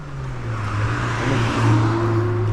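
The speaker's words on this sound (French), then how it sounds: "Oh la vieille voiture là" An old car drives past on a road, its engine a steady low drone that swells slightly as it nears, heard over continuous road and wind noise.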